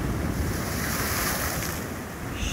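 Ocean waves washing up over an eroded beach at Pau Amarelo in Paulista, Pernambuco, a loud continuous roar of surf with heavy wind buffeting the microphone and no speech.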